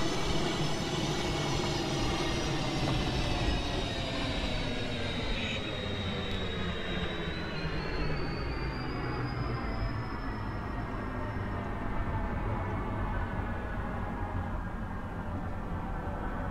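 A RegioJet train pulls into a station in a Roblox train simulator game, with a steady low rumble of wheels and a tonal electric whine that slides upward and then fades, heard alone without talk.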